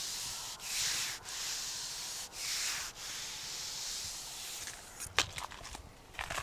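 A hand rubs back and forth over smooth tree bark on the Nullarbor, close, soft hissy strokes in a steady rhythm with brief pauses between them, followed by a few sharper scuffs and taps.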